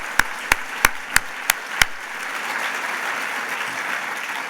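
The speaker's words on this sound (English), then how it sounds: "let's give him another round of applause and his whole family" Audience applause at a community luncheon: six loud, evenly spaced nearby claps open over a broad crowd clapping that carries on steadily in the room afterward.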